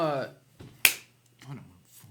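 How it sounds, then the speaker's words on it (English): A single sharp hand clap cracks out, swatting at a small fly during a tabletop game session, between stretches of people talking. "There's like a small fly here. Ignore if he's clapping randomly."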